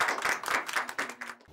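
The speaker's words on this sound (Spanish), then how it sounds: "Esperemos aplausos." Short burst of clapping from a small audience at a Colombian government housing ministry program, quick uneven claps that fade out after about a second and a half.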